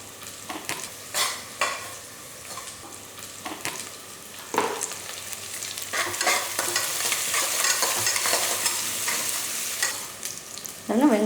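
Onions with turmeric and salt sauté in a pan for brinjal rice, the spatula scraping and stirring in irregular strokes over a gentle ongoing sizzle that grows fuller in the second half, with no speech.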